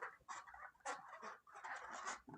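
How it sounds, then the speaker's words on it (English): A chicken clucks in a quick series of short, fairly faint calls with brief gaps between them, heard alone without talk. "Chicken."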